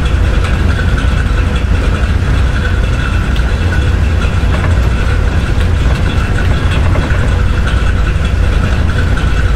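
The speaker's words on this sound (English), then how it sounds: "Boy, done got loud, that engine." A loud junkyard truck engine in a video game runs with a steady, dense, droning rumble that fills the whole stretch without pause, close and constant with no voices.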